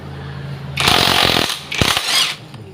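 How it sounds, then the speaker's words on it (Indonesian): An impact wrench loosens a 14 mm fitting on a jet water pump in two loud rattling bursts, the first about three-quarters of a second long and the second shorter after a brief pause, with a quiet motor hum before them. "karena kita menggunakan impact"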